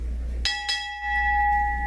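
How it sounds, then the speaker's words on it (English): A ship's bell is struck twice in quick succession at a Navy retirement ceremony, two bright metallic clangs whose clear ringing tone lingers afterward over a low room hum. "Strike 2 bells."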